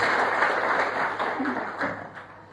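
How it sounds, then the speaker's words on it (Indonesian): Congregation applauding in church during a sermon, a brief burst of many hands clapping with some voices mixed in, fairly loud and thinning toward the end. "Beri tepuk tangan yang terbaik buat Tuhan Yesus."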